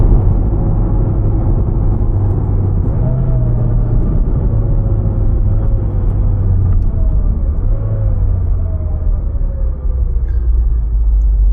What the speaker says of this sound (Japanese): シフトダウンする時の音も気持ちいいですね